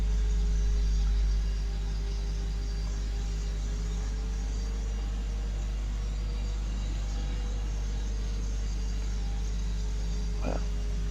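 A jet airliner taxiing after landing at Toulouse-Blagnac, engines running with a steady low rumble and a sustained whining tone, heard from a moderate distance, constant throughout with a brief sharper noise near the end.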